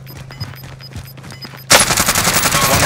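Heavy automatic gunfire from a Call of Duty match bursts in loud and sustained after a quieter stretch of faint clicks and footsteps, rattling on without pause to the end.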